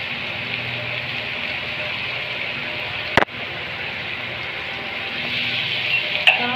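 Food frying in hot oil in a pan with a steady sizzle throughout, broken by a sharp clack of the stirring utensil, then another softer knock near the end. No talking.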